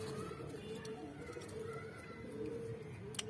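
Pigeons of Saharanpuri, jhabra, aabi, kasni and Moradabadi bhurre breeds coo softly in a steady, low murmur, faint and continuous with occasional small rustles.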